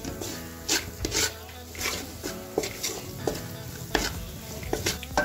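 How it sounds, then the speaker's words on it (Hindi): Spice masala of dry coriander and cumin powder roasting in a pan for an egg curry, with repeated stirring scrapes at a regular pace over a low sizzle, close and moderately loud. "मसाले को हम अच्छे से अब इसमें भुनाई कर लेंगे"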